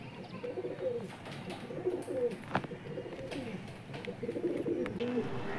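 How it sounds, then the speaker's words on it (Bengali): Kalanka and Madrasi pigeons keep up repeated low cooing throughout, soft and fairly close, several overlapping calls over a steady background hum. "এই যে মুন্নিশাটা মেয়ে পায়রা, সবুজটা ছেলে পায়রা"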